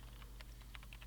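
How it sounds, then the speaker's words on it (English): Keyboard keys click in quick, uneven bursts as someone types at a computer, sharp little taps over a steady low hum in a quiet room. "The only sound present in the room was the distinct clicking of a keyboard."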